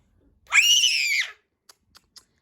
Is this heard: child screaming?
yes